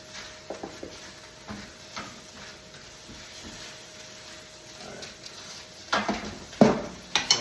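Potatoes frying in olive oil are pushed around a pan, giving a soft sizzle under scattered scraping and knocking of a utensil against the pan, with louder clatters toward the end.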